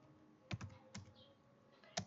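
Typing on a computer keyboard, with a few separated clicks in short clusters, close but quiet, in a still room with no talking.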